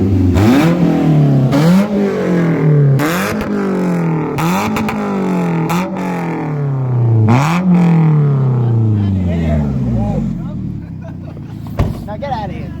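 A straight-piped Toyota Camry engine revs repeatedly and loudly up close, each rev rising and falling in a rough rasping sweep, with people talking and shouting around it.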